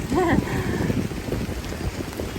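Wind and rain batter a city street near Fifth Avenue in Manhattan as a steady broadband rush, with a brief faint voice at the start.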